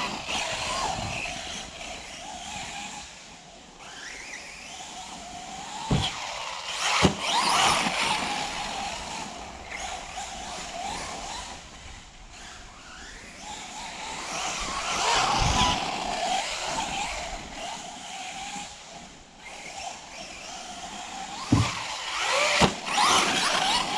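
An Arrma Senton RC monster truck drives with a high, whining electric motor that revs up and down in uneven bursts, with sharp clattering impacts and tire noise as it runs, loud and close throughout.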